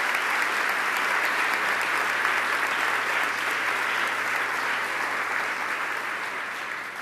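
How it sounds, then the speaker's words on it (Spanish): Church congregation giving sustained, dense applause in praise of God, a steady wash of clapping that holds evenly for several seconds and tapers slightly at the end. "De un aplauso al Rey de Reyes y Señor de Señores"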